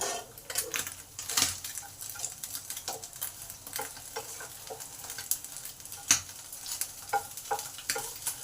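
Small mourala fish are turned in a pan of hot oil: a soft ongoing sizzle is broken by sharp, irregular clicks and scrapes of a utensil against the pan.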